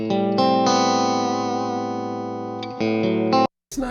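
Electric guitar played through a Fender Supersonic 22 combo amp, a sustained chord ringing out with a chorus-like shimmer, re-struck near the end before cutting off, followed by a brief rustle.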